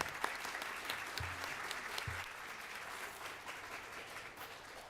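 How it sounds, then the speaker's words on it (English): Attendees at a school district board meeting clap for the student board members: quiet, steady applause from a modest crowd, sustained evenly for about five seconds. "give them a round of applause"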